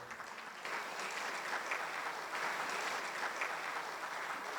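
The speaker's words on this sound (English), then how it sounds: "A warm round of applause for the host families, ladies and gentlemen." Wedding guests applaud the host families inside a civic hall, an even, continuous patter of many hands at moderate volume, somewhat distant and steady from start to finish.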